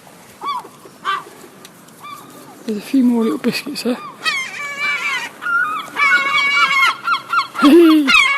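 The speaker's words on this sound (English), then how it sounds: "There's so many seagulls down here, it's cool." Seagulls gather by the water in the morning, giving repeated harsh, squealing calls in short bursts nearby, mixed with a person talking.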